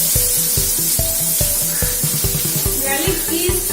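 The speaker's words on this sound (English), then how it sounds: "Just let it fry till it becomes a little brown." Garlic and onion fry in a pan with a loud, constant sizzle and hiss, broken by rhythmic tapping knocks as they are stirred.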